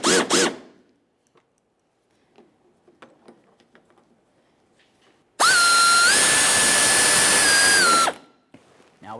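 A power drill snugs up the screws on a rear outer parking assist sensor of a 2008-2017 Buick Enclave, making one loud, close whirring burst of about three seconds that shifts pitch briefly, after quieter handling clicks.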